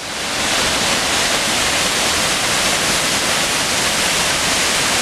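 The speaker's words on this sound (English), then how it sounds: "We're approaching the waterfall." A waterfall at Shellburg Falls, Oregon, roars steadily and loudly, a dense unbroken rush of water that fills the whole clip.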